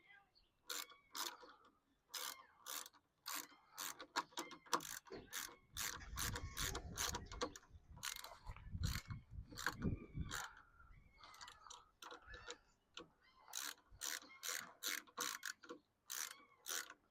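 A ratchet tightening nylock nuts on a power pole anchor stake, with repeated bursts of close, rapid clicking separated by short pauses.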